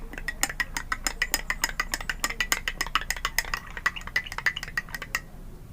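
A spoon stirs coffee in a glass, making rapid, rhythmic metallic clinks against the sides, close and clear, for about five seconds before stopping.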